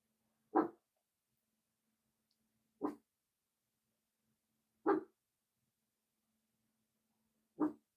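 A dog barks four times in single, evenly spaced sharp barks about two seconds apart, moderately close in an otherwise quiet room.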